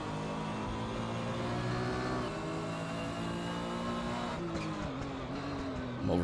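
A Porsche 911 GT1 race car in Assetto Corsa at Silverstone, its engine revving hard in a sustained howl, with pitch shifts as gears change and a brief surge of tire noise near the end.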